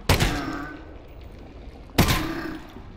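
Two loud video game gunshots in Half-Life: Alyx, about two seconds apart, each a sharp crack followed by a fading, echoing tail.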